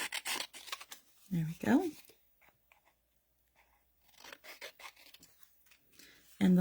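Scissors cut through paper pattern pieces for a quilted pocket project, giving intermittent crunchy snips close by, with a person talking in between the cuts.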